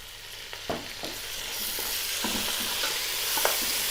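Roughly chopped tomatoes go into frying masala for mutton yakhni pulao, a sharp sizzle rising as they hit the hot oil, then a continuous loud hiss with a few clanks of stirring nearby.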